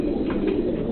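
Red laced bald head roller pigeon, a young bird not yet fully grown, cooing close by in a low, steady murmur that continues through the whole second.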